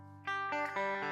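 A few sustained, bright electric guitar chords through an AmpliTube amp simulator ring out one after another, dry and close, with a processed amp-like tone.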